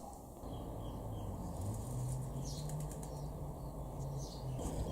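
A bird flaps its wings in flight, a soft fluttering rush that runs for several seconds over a low outdoor rumble, with no speech.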